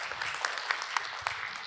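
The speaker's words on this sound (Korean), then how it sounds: "박수 한번 부탁드리겠습니다" Audience applause after a school principal's talk at an education session, a soft, distant, steady patter of many hands with a few sharper claps, fairly quiet throughout.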